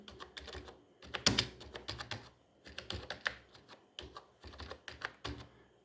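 Quick, uneven clicks of a computer keyboard come in close bursts of typing with short pauses between words, quiet and alone.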